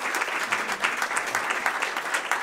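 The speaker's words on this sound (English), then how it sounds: "With that, let's give them a round of applause." Audience applause after a civic-service breakfast briefing in New York City, a dense, steady clatter of many hands filling the whole stretch at even loudness with no talk over it.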